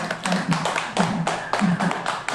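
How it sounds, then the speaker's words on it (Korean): Worshippers at a Buddhist temple's first-day-of-the-month dharma service clap in short rhythmic rounds, the sharp hand strikes coming in steady pulses close by. "박수 한번 쳐줄까요?"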